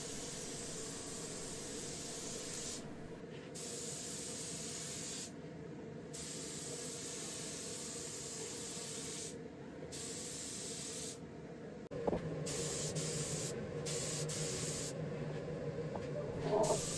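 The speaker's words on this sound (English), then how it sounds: "You can adjust your spray gun to whatever setting you like." A spray gun set wide open sprays primer onto wooden drawers, a steady hissing rush that cuts out briefly several times between passes, fairly close and without talk.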